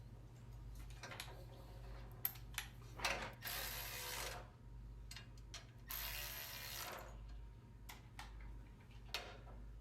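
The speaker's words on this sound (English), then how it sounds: "we'll go ahead and secure those bolts." Hand ratchet tightening bolts on a Scag SWZT 48-inch mower deck during a GrassFlap install, quick bursts of close clicking with short pauses between strokes and faint clinks, no talk.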